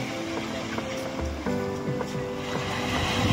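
Adriatic Sea waves at Rimini, Italy, wash in as a continuous loud surf rush, joined by some faint tonal background sounds from the beach.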